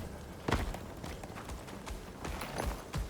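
Horse footsteps in the survival video game Icarus: a few soft hoof-like thuds spaced irregularly over a low ambient background, fairly close but not loud.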